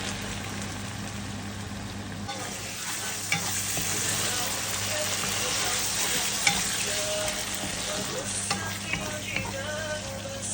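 Dried fish bhuna with tomato frying in a pan, a steady close sizzle that lasts throughout, with scraping stir strokes and small clinks of the spoon on the pan, and no talk.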